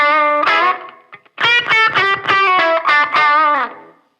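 Electric guitar played through a Strymon Iridium amp modeler with a distorted tone: a sustained opening chord, a brief pause, then a run of picked notes and chords, loud and close with no talk.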